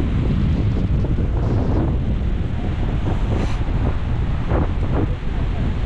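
Strong wind roars steadily across the microphone, a loud broadband rush with gusting swells throughout.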